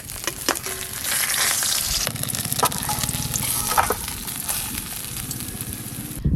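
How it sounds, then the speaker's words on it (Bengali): Katla fish heads fry in hot oil in a pan, a loud, close sizzle broken by scraping stir strokes and occasional spatters over several seconds, with no one speaking. "মাছের মাথাগুলো কিন্তু বেশ ভালো করে ভাজা হয়ে গেছে"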